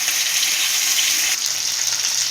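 Fish frying steadily in a pan of hot oil for a fish fry, giving a continuous, close, loud sizzle with no talking.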